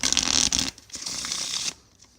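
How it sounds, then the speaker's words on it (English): A quick riffle of cards close by, a burst of flicking paper followed by a softer continued shuffle, then quiet. "we can even shuffle the cards if we want to"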